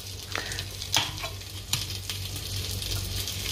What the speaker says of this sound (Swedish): Håller på och steker en schnitzel med lite pommes.